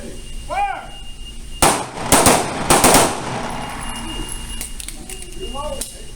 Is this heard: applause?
no